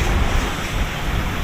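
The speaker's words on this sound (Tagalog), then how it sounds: "lakad ng hangin oh." Strong wind at Manila Bay buffeting the microphone in a loud, continuous roar, broadband and blustery throughout the brief moment.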